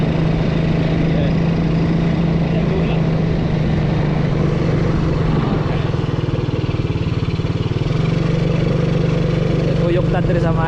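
Motorcycle engine droning steadily while riding a back road from Mintal to Calinan, loud and close with constant wind rush and a low throbbing hum throughout, no clear speech over it.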